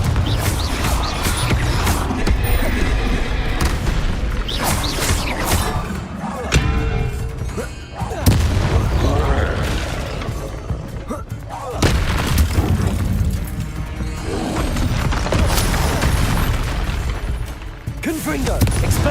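Confringo blasting spells exploding in Hogwarts Legacy, repeated loud booms and bursts in a dense, chaotic battle mix with voices talking over the top.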